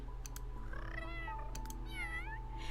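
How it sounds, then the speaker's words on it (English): A Sims 3 video game cat gives two very high-pitched, thin meows in quick succession over a low steady hum, with a few faint clicks. "He's got the highest pitch little meow I've ever heard in my life."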